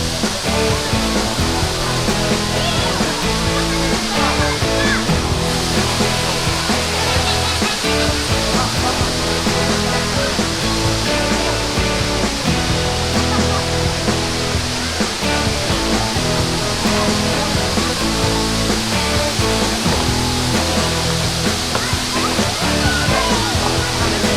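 Bolinao Falls 1 in Bolinao, Pangasinan roars loudly and continuously, a dense rushing wash of water that fills the whole stretch without pause.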